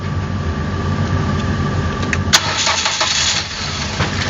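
A 2007 car with a 2-litre engine, which starts with difficulty and will not rev, cranks and catches, with a loud, close whir settling into a rough, steady running engine.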